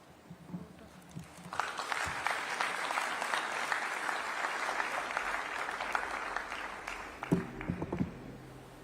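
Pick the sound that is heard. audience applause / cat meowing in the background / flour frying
audience applause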